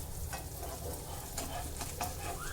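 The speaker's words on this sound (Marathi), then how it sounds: "म्हणून बोंबील फ्राय करताना मिडियम आचेवरच फ्राय करायचे आहे" Coated Bombay duck (bombil) fish shallow-fries over a medium flame until crisp and golden, making a faint, even sizzle and hiss with only small crackles throughout.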